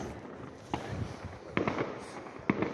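Fireworks bursting on New Year's Eve 2025: a few sharp cracks and pops, one around three-quarters of a second, a cluster near the middle and another near the end, over a steady crackling background.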